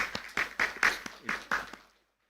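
A conference audience claps in short, uneven bursts. The sound is moderately close and fades out after about two seconds.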